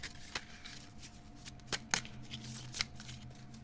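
Tarot cards are shuffled by hand to draw a single card, a soft close riffle with a few sharper slaps and flicks, quiet and alone.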